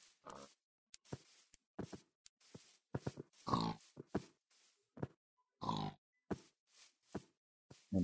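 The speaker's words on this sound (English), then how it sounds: "And noisy piggies." Pigs in Minecraft oinking and grunting in scattered short bursts, some louder and closer than others, with quiet gaps between and no talking.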